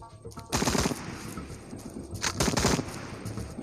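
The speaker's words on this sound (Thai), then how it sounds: "ลูกซองฮะ" Shotgun blasts in the zombie shooter game Into the Dead, two loud bursts of gunfire about two seconds apart over a steady game background.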